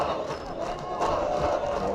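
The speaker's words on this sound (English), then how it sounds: "And the crowd, they're in full voice," A cricket crowd at an under-19 one-day international between Bangladesh and South Africa roars steadily in full voice, a dense, continuous wash of cheering and chanting heard from the stands without pause.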